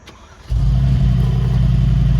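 A 2022 Mercedes-AMG G63 V8 cold-starts with exhaust valves closed, cranking and catching, settling straight into a deep, loud, rumbling idle close by.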